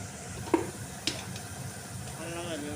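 Ginger-garlic paste with turmeric, salt and chili powder fries in oil, giving a soft, steady sizzle while a spoon stirs it with a couple of sharp knocks against the pan.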